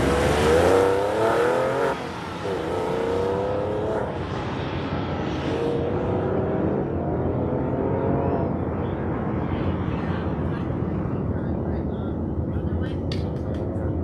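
Mazda Miata autocross car at an SCCA autocross championship at Auto Club Speedway, engine revving and fading as it runs through the final slalom cones, heard at a distance beneath an announcer's continuous commentary.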